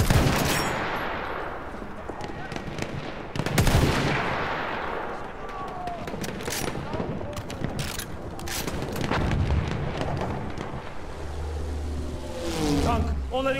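Battlefield 1 battle gunfire mixes rifle and machine gun shots with heavy artillery booms, some close and loud and others distant, with in-game voices shouting over the chaos.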